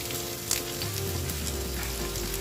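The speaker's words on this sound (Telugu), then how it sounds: "ఈ ఉల్లిపాయ ముక్కలు కూడా ఇందులో వేసి వేయిద్దాము" Onion pieces frying in a pan as a greens curry is prepared: a dense, continuous sizzle heard close, with a faint clink near the start and a low hum underneath, and no talking.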